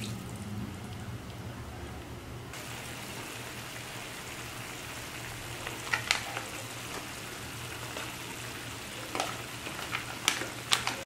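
Chicken pininyahan with carrots, milk and pineapple chunks simmers in a pan, a soft steady bubbling sizzle broken by a few sharp spoon taps and scrapes as it is stirred, fairly faint overall.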